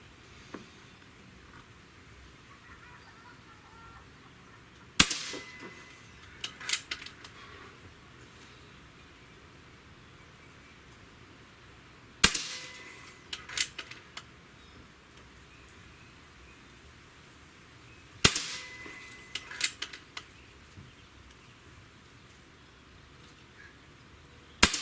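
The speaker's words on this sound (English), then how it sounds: "All right, let's get to shooting here." A Gunsan ASYA PCP .22 caliber air rifle fires at targets about 20 yards away, four sharp cracks spaced several seconds apart, each followed by clicks and handling noise, over a steady outdoor hiss.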